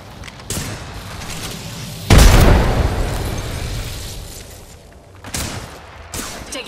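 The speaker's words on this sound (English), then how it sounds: "Throwing frag." Frag grenade blast in a shooter video game, a loud booming burst that rolls off into a long decaying rumble, with smaller pops and gunfire bursts before and after.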